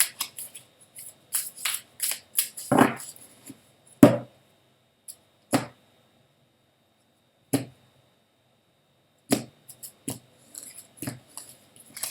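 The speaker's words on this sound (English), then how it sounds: "Just want to make sure I get a good shuffle going with this." A deck of tarot cards being shuffled, with irregular bursts of crisp card riffles and snaps separated by quiet pauses, close and fairly loud with no talking.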